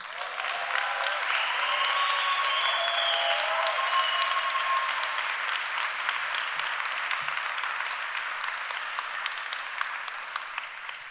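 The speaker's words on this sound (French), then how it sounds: "Un tonnerre d'applaudissements pour Rokia Bamba." Thunderous applause from an audience after a slam poetry performance at a concert hall, dense sustained clapping for several seconds that slowly thins and fades toward the end.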